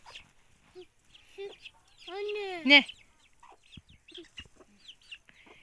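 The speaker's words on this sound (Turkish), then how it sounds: "ne kadar güzel tavuklar" Chickens cluck nearby in a short burst of calls, with a few brief spoken words from people around them.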